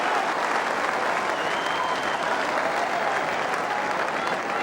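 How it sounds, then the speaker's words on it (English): Steady, dense applause from a large crowd at a 2001 AFL match between the Brisbane Lions and Essendon Bombers, a continuous roar of clapping filling the whole stretch at even loudness. "Nice to see the crowd appreciating it too."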